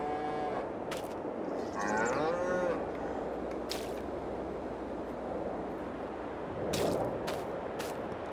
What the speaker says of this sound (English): So let me go ahead and hustle up and get these cows fed.